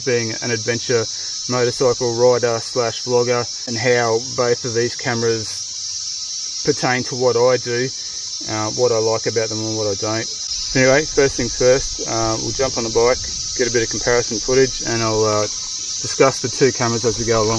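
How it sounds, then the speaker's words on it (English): Cicadas buzz in a loud, constant high drone outdoors, heard beneath someone talking continuously at close range. "You'll have to excuse the cicada noise today"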